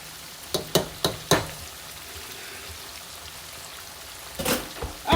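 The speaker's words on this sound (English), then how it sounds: "I'm going to let these fry" Chicken wings, seasoned and unbreaded, frying in hot oil with a steady soft sizzle, broken by a few sharp crackles and pops early on and again near the end, no voices.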